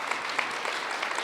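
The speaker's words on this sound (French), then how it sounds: "Une bonne main d'applaudissements pour Gabrielle." An audience claps steadily for a speaker after a talk, a dense, even patter of many hands that sounds moderately distant and has no voices over it.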